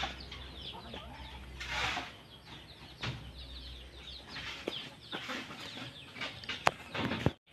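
Chickens cluck in short bursts around a farmyard, with scattered chirps and rustling over a steady low background hum.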